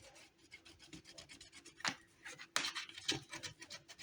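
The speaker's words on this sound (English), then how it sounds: "After it sits for a while, you see that you're able to scrape it off" Old 3M tape adhesive is scraped off a car window visor in short, quiet rubbing and rasping strokes. The strokes come in an irregular rhythm, close and faint, with a couple of sharper scrapes and no talking.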